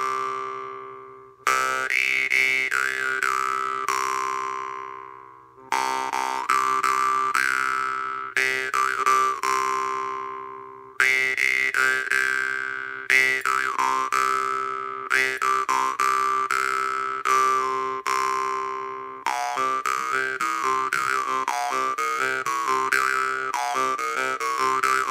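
A Knyha Shaman jew's harp struck from underneath gives loud, twangy, buzzing boings in rhythmic bursts, each note ringing and decaying, with a few short pauses between phrases.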